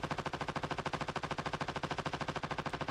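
Rapid automatic fire from a Kilo 141 assault rifle in the mobile shooter game Call of Duty Mobile, a steady, loud stream of evenly spaced shots with no pauses, heard alone.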